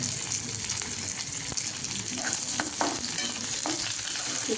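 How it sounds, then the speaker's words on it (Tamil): A green chili sautéing in a pan for chicken kola urundai, with a continuous close sizzle and several sharp scraping stir strokes in the second half. "ஒரு ஒரு நிமிஷத்துக்கு அப்படியே வதக்கி எடுத்துக்கலாம்"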